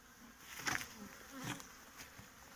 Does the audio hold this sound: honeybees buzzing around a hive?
yes